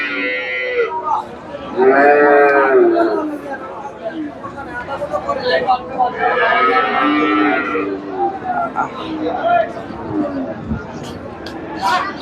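Sahiwal cattle mooing at a cattle market, several long loud moos, one near the start and another midway, while someone talks over the crowd chatter.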